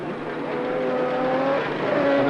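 A Norton rotary racing motorcycle passing at speed during a race: a loud, sustained engine drone with a smooth tonal whine that shifts pitch slightly as it goes by, alone without talk.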